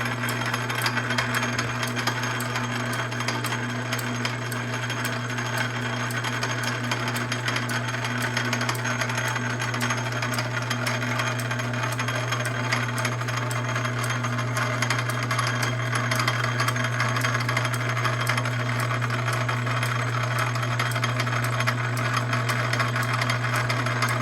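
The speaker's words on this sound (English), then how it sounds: "This is an old South Bend heavy 10 in back gear, so it's kind of noisy, but here we go." Old South Bend Heavy 10 lathe running in back gear, a steady, loud mechanical drone with a constant low hum and continuous gear whine and rattle throughout, no voices.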